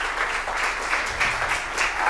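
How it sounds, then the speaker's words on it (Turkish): A studio audience at a Turkish folk music TV show applauds steadily and densely, with many hands clapping close together throughout. "o güzel alkışlarınızı eşlik edersiniz"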